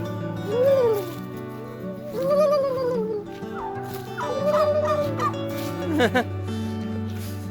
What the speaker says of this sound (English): Oh, you're gonna hear the turkeys.